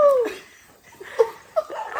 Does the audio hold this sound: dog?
yes